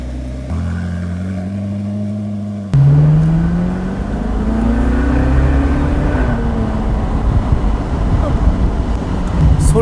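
A Ferrari California 30 engine starts and then roars loudly, its pitch climbing as it revs, with heavy wind buffeting over it.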